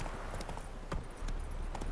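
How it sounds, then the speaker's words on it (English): Horse hooves clip-clopping in The Witcher 3, a steady rhythm of close, moderately loud footfalls over a low ambient game background, with no talking. "Roach is a good horse."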